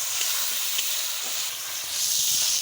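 Ground spices with turmeric powder frying in a pan for a jackfruit seed dal, a steady close hiss of sizzling that holds evenly throughout with faint crackle.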